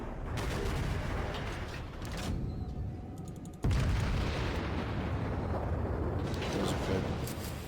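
Main guns of the battleship Myogi firing in World of Warships: a heavy, rumbling naval battle bed broken by a sudden loud boom midway that leaves a sustained roar behind it.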